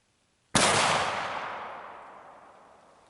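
A single loud .44 caliber revolver shot fired at a watermelon cracks out sharply after a moment of quiet, then rings away in a long fading echo.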